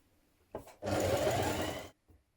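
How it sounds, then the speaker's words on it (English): A sewing machine runs in one steady burst of just over a second, stitching the sleeve seam of a gathered top, with brief faint clicks of handling before and after, close and otherwise quiet. "stitch your sleeve seam matching your notches and edge finish your raw edge"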